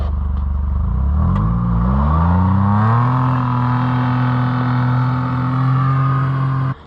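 A John Deere Gator 835M utility vehicle's engine starts, settles, then climbs in pitch and holds a loud, steady drone close by, with no talking.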